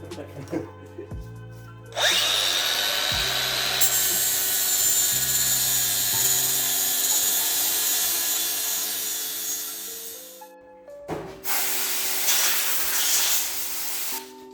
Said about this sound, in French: Il va meuler une pièce OEM de 205 GTI.